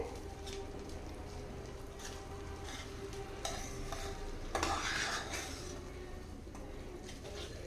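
Ragi flour being stirred with ghee in a pan for kali, a steady scraping stir with soft sizzling throughout, close and continuous, briefly louder in the middle, with no talking.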